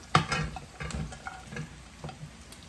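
Bell pepper going into a pan of cooked onion on the stove gives a sharp initial hiss and clatter, then a low steady sizzle with scattered stirring clicks, close up and with no voices.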